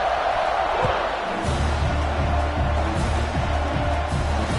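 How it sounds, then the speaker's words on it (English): A dense stadium crowd roars continuously before a kickoff in a college football video game, a loud, steady wash of noise with rhythmic low thumps beneath, no clear talking over it. "They're set to kick it off, and this crowd now ready to get behind them."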